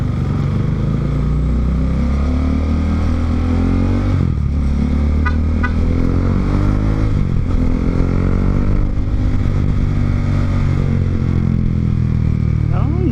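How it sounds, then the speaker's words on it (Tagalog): An older motorcycle's engine runs steadily and loudly while riding through traffic, a continuous low drone throughout, with brief horn toots partway through. "Ang ganda ng tunog ng motor ko ngayon."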